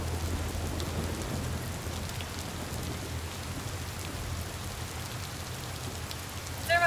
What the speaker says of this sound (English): It just start raining and it's all of a sudden flooded.